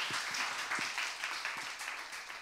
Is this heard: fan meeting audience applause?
yes